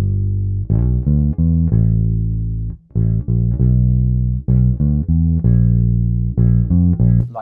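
Bass guitar playing long sustained notes in a Stormy Monday blues line, a deep, loud series of held tones separated by short gaps, steady and unaccompanied.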